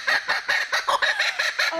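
Raucous, continuous cackling from a laughing kookaburra rises and falls in rapid pulsing bursts, loud and close, with no voices over it.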